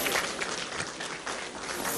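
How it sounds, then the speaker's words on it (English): A large crowd at a formal gathering applauds steadily for a speaker, producing a dense, sustained wash of many hands clapping with no break over two seconds. "can you give him a round of applause, please?"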